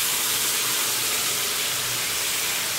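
Steady, dense sizzling hiss of food frying in a pan, continuous and fairly loud with no pauses and no voices.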